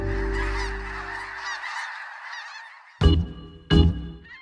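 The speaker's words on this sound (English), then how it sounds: "Snow geese, avocets, and grebes are just a few of the species that stop in Butte" Snow geese honking close by in a dense, loud chorus that thins out, followed by two sharp loud bangs.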